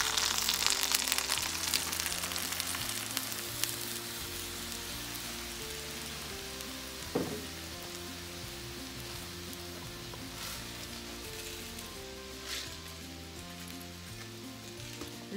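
Chopped onions frying until translucent as tomato sauce is poured in, giving a steady broadband sizzle with background music, for Mexican huevos ahogados.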